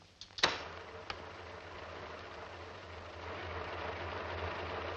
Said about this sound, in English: That's her car. It's not moving. The motor's idling.